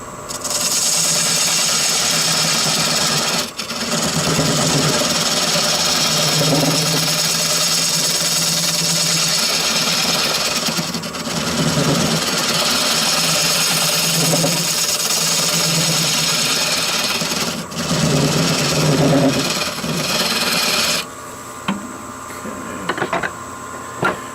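A natural-edge oak crotch bowl is cut on a wood lathe, producing a continuous scraping, rasping tone of tool on spinning wood that pauses briefly a few times and changes character near the end.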